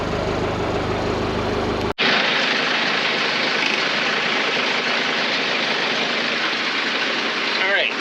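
Case 580 SE backhoe diesel engine idling as it warms up, a steady, loud, continuous rumble that starts abruptly after a brief cut and holds even throughout, with no talking over it.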